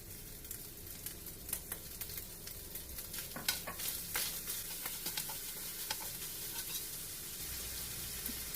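Minced pork stir-fried with hoisin sauce in a pan, a soft continuous sizzle broken by light spatula taps and scrapes throughout, fairly quiet and close.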